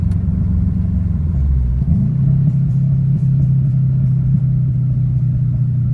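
A Corolla engine running a popcorn tune on a DET3 system rumbles steadily and close, dipping briefly around a downshift before settling back into an even, loud drone.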